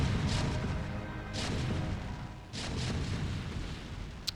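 Siege tanks firing in StarCraft: Brood War, heavy booming shots landing at intervals over dense, continuous battle noise, with a sharp crack near the end.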